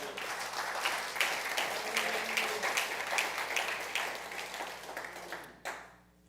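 A church congregation claps and cheers in praise, with dense, continuous applause spreading through the room at moderate volume before it trails off near the end.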